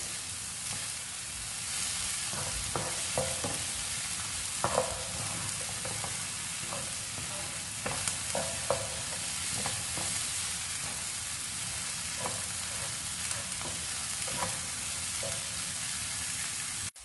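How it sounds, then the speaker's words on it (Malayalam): Beaten eggs are poured over onions in a pan for kothu parotta and stirred, giving a constant near sizzle broken by scattered light scrapes and taps of the spatula. "ഇതിലേക്ക് രണ്ട് മുട്ട അടിച്ചു വെച്ചത് ഒഴിച്ചു കൊടുക്കുക. മിക്സ് ചെയ്ത് കൊടുക്കുക."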